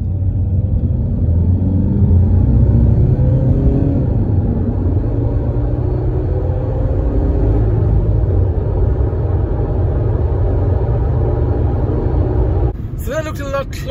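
A Honda Civic and a Hyundai Kona accelerate in third gear from 30 km/h, making a loud, steady engine rumble and road drone that holds for over twelve seconds before cutting off abruptly. A voice talks over it.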